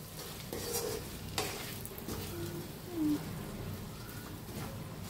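Salted stuffed brinjal masala is stirred in a pot, giving soft scraping and a low sizzle that come and go at a modest level.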